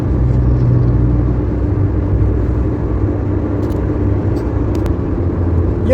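Steady car traffic streams along the Jeddah express highway, a continuous loud rumble and road roar with no breaks or single passes standing out.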